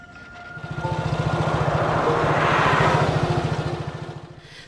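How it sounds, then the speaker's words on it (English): A scooter fitted with a welded sidecar drives through colourful streets in Yogyakarta, its small engine buzzing with a rapid regular putter that swells as it passes close by and then fades away. "you can hear the sound of that scooter with its sidecar whizzing along the colourful streets"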